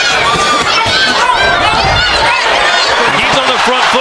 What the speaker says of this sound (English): This crowd is rallying behind him.